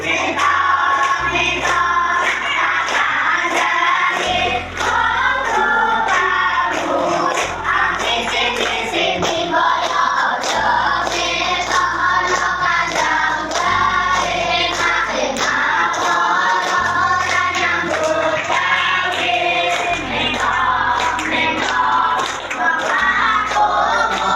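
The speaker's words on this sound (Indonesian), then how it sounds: "Silakan sambil tepuk-tepuk ya." A group claps steadily in time while singing an Indonesian regional song, with rhythmic hand claps running under the voices and music throughout.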